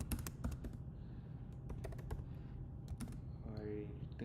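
Rapid, quiet clatter of keys on a computer keyboard, irregular bursts of clicks with short pauses, recorded close and faint with a brief soft tone near the end.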